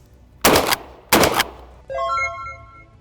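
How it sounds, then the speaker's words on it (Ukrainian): Two sharp, loud shotgun blasts from a pump-action shotgun about half a second apart at a shooting range, followed by a brief mechanical ringing clatter as the action is worked. "щоб пересмикнути цівку і приготувати рушницю до наступного пострілу"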